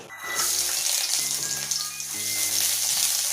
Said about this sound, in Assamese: ফোৰণ দিছোঁ